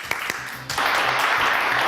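Studio audience applause on a live French call-in TV show, breaking out after a few scattered claps into a steady, dense clapping that fills the rest of the moment, with no voices over it.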